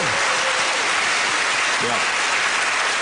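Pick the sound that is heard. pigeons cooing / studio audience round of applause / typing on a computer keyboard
studio audience round of applause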